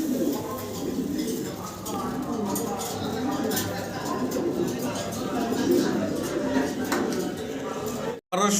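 A pair of large fancy Modena pigeons coo softly in a loft, low throaty calls repeating over a background of clatter and indistinct voices.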